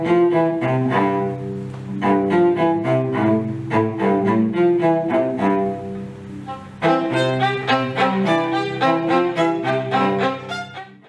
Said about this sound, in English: The first was a duet between the violinist and the cellist during the instrumental section.